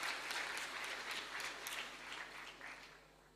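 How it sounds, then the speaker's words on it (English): An audience at a technology workshop session claps for a guest speaker, a dense and even wash of many hands that starts strong and slowly fades over a few seconds, heard alone without speech. "please give a round of applause to Dr. Manindra Agrawal."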